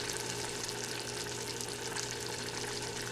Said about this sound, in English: We're just going to cook the picadillo.